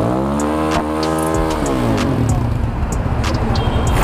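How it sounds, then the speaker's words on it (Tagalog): A motorcycle fitted with a full system exhaust and silencer revs up, its engine tone climbing and then settling into a rough, throbbing idle, loud and close. "So guys, ito na sound test, may silencer, fully silencer siya."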